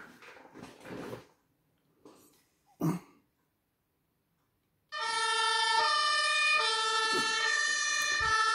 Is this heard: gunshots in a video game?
no